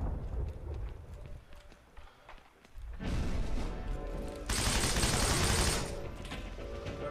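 Gunfire and grenade blasts in a shooter video game set in a WWII-style battle with an MP40, heard as bursts of rapid shots and loud sustained explosions, with voices faint underneath.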